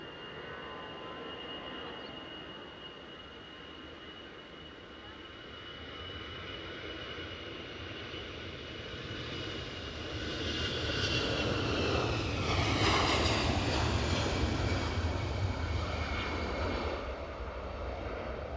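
EasyJet jet airliner taking off at Edinburgh Airport, a steady engine roar that builds and swells louder midway, then stays broad and sustained as it powers away.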